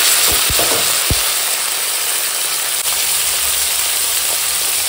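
Steady, loud sizzling of beans, onions and green chillies frying in a hot pan, with a few brief clanks near the start and continuous hiss throughout.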